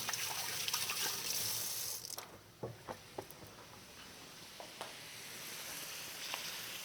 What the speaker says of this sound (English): while I do myself a quick hand wash